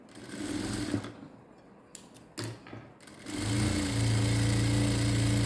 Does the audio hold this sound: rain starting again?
no